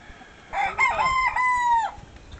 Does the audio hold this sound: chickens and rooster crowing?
yes